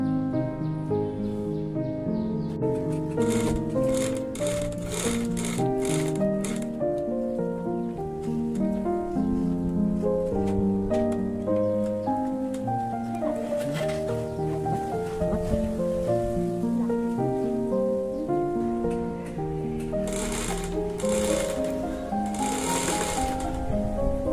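Sewing machine stitching a handle onto a homemade paper bag, a continuous rapid mechanical whir with a steady rhythmic clatter, loud and close, running the whole time with little else around it.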